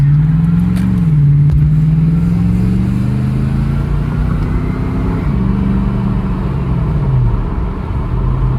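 Lexus GX460, a high-mileage SUV, pulls out and accelerates into traffic, its engine rising and falling through gear changes in a loud, smooth, close rumble that runs continuously without speech.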